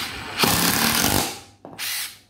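A Makita cordless brushless drill whirring up to speed in a loud close burst, winding down, then a second shorter run.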